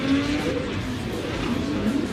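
A Pro 2 drift car sits at steady high revs during a qualifying run at a Texas track, its engine droning continuously with tire noise, heard from a distance and with no talking.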